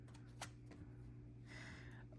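Tarot cards from the Oracle of the Divine deck are shuffled by hand, a quiet soft riffle and slide of card stock with a brief flick near the start, faint against a low background hum.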